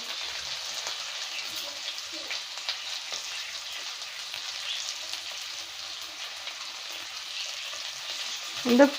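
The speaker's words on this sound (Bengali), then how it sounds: "কারি পাতা ফোড়ন দেবো" Curry leaves crackle and spit as they are tempered in hot oil for a village-style chilli soybean dish. The sizzle stays steady and fairly soft throughout, with light stirring scrapes and a brief louder clatter at the very end.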